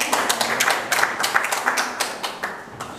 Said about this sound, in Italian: alla quale facciamo un applauso